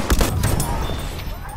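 Enemy machine gun fire in a World War-era shooter, a dense, continuous burst of rapid gunshots with a booming low end, loud and sustained for the whole moment without letting up.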